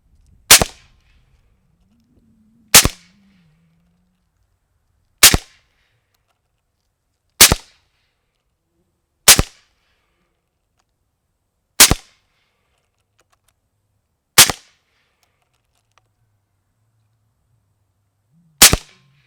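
An Airforce Condor SS .22 air rifle fires eight sharp, loud shots, each a crisp crack followed by near silence, spaced about two to three seconds apart with no talking.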